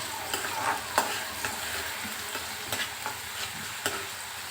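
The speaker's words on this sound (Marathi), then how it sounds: "कांदाही मंद आचेवर शिजवायचा आहे" Onion cooks on a low flame in a pan for masale bhat with a soft continuous sizzle. Regular sharp spatula taps and scrapes from stirring break through it every second or so, with no talk.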